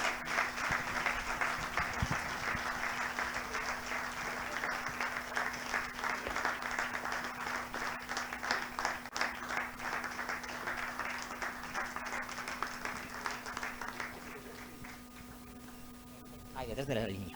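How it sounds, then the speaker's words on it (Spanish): Applause rolls through an award ceremony hall for a prize presentation, sustained clapping from a crowd over a low electrical hum, thinning out near the end. "Un aplauso."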